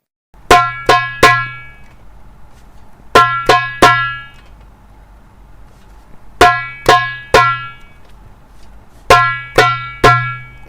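A hand drum plays a slow three-stroke tek-ka-tek pattern four times, with crisp, ringing, evenly spaced hits and short pauses between groups. The drum is loud and close, with no talking.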